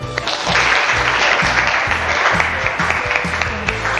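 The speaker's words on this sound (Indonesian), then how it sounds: "Beri tepuk tangan." Students in a classroom applaud a classmate with loud, close, uneven clapping over about four seconds, and a low rhythmic thumping runs underneath.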